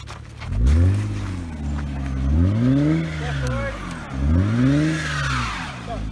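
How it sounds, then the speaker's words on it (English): A car stuck in mud revs its engine in three loud rising and falling surges, each climbing in pitch then dropping away, with voices faintly in the background. "What if we just take the car and move it somewhere else?"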